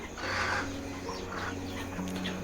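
Chickens cluck softly at night inside a winter brooding shed with chicks, a few low murmuring clucks and calls close by over a faint steady hum.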